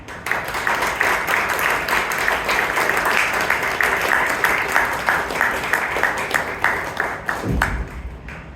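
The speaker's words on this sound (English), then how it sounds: "Give a thunder, round of applause to Toastmaster Amisha and Nahar." A thunderous round of applause fills a Toastmasters club meeting in Bangalore, dense steady clapping from the audience sustained for several seconds before tapering off near the end.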